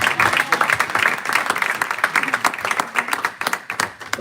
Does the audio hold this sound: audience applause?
yes